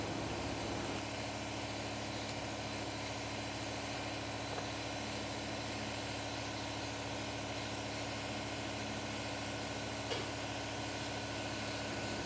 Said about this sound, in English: I forgot to turn off the compressor.